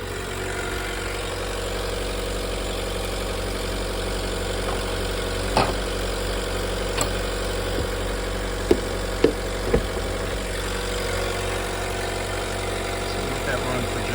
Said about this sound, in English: When you pop the hood, it automatically turns the generator on.